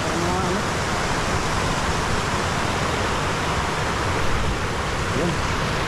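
At a dam, the current pours and rushes in a loud, steady broadband roar with no breaks, heard up close throughout.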